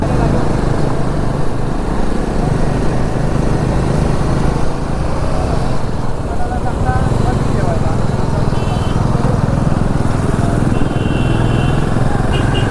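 Motorcycles riding in heavy traffic on the way to a hill fort, one a Bajaj Pulsar, with loud continuous engine drone and wind rumble close by while someone talks over it.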